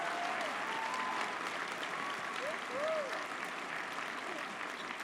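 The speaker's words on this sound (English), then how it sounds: "Can we have a round of applause for the people who kept us safe for all these years?" Faint, distant applause from a sixth grade graduation audience honoring school security and maintenance staff, with a few whistling tones rising over the steady clapping.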